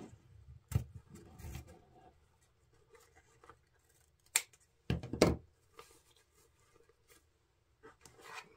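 Scissors snipping through ribbon to trim a 6-inch tail while assembling a door swag wreath, a few quiet, sharp cuts and rustles spaced apart, with no talk.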